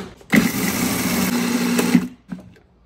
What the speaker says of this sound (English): add artichokes, cottage cheese, garlic, olive oil, Parmesan cheese, salt and pepper, and some pasta water to a food processor or blender and mix until smooth